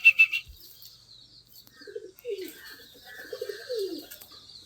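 Pigeons, both common and crested, coo softly in short warbling phrases at close range, after a brief sharp chirp at the start, with no talking.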